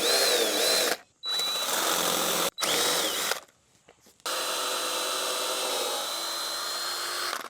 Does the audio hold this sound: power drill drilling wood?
yes